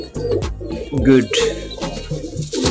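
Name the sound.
pigeons cooing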